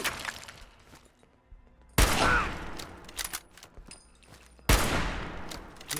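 Gunfire in the Fallout 4 video game: two loud, sharp volleys of shots, each bursting in abruptly and then trailing off with ringing echoes, with quieter shots and clatter between them and no speech.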